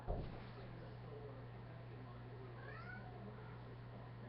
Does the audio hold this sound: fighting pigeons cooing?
no